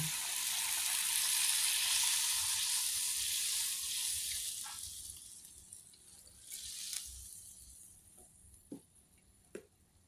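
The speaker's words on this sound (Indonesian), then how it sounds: "Setelah itu masukkan santannya." Coconut milk pours into a pot of Indonesian vegetable stew, sayur lodeh with pindang fish and green chilies, making a loud rushing, hissing wash that fades after a few seconds into quiet, with a few faint clinks and bubbles.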